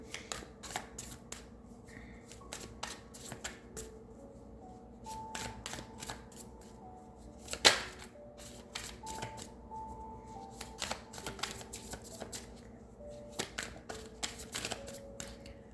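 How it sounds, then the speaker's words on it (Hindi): A tarot card deck being shuffled and handled, with repeated crisp riffling and flicking bursts up close, one sharper snap midway, and faint soft background tones underneath; no talking. "हम लोग ने पहले कार्ड निकाल लेते हैं शफल करके।"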